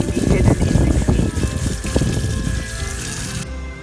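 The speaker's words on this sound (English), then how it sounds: "you're gonna wash them one by one with running water" Running water pours over lemongrass leaves as they are washed one by one, a close, busy splashing and gurgling that eases off toward the end before cutting out.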